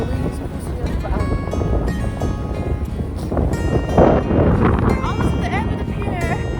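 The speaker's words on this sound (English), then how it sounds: "We're walking towards the wind, and the wind is pushing us back." Strong wind buffets the microphone on a beach pier on a cold morning, a loud continuous rumbling roar with gusts, while people talk over it.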